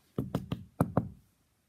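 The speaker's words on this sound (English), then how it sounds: "They're gonna knock again, I know it." Knuckles rap on a door five times in two quick groups, sharp and close, each knock dull and solid, then the room falls silent.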